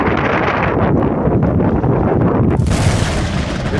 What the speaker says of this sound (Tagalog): lakas yung hangin kaulan